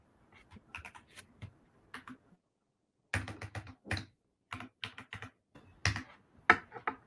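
Keystrokes on a computer keyboard, sharp clicks arriving in short irregular bursts separated by pauses, fairly close and clear with no voices.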